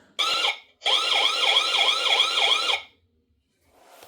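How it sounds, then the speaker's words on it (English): A loud electronic siren from a Xega 4G LTE cellular solar security camera wails in a fast rising-and-falling pattern, cutting off briefly after a short first burst, then sounding steadily for about two seconds before stopping. "Now hopefully we can get the alarm going."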